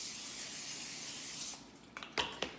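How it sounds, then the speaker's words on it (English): A can of butter-flavored cooking spray hisses in one long steady burst over food laid out in a row. It then stops, and a few soft clicks and taps follow. "I'm going to spray the tops with the butter flavoring."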